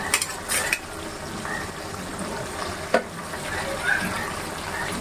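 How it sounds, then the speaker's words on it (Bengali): Snakehead fish (shol) frying in a pan for a curry, a steady moderate sizzle with a few sharper spatters and clinks, recorded close with no one speaking. "এই পর্যায়ে আমি দিয়ে দিব শোল মাছ।"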